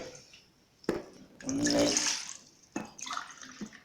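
Water poured from a tumbler into a cooking vessel: a close, splashing gush that swells and fades, with a short splash before it and a lighter trickle after.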